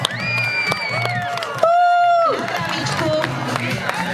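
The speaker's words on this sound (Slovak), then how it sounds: "povzbuďme ich potleskom" A crowd cheers and claps for young riders at a children's micro-category bike race, with loud shouts, whoops and rising voices that carry over steady background clapping and talk.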